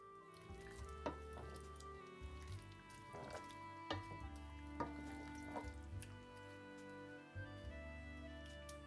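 A food mixture stirred in a pan on the stove, soft repeated scrapes and wet squishes over a low steady hum, close and fairly quiet, with no voice.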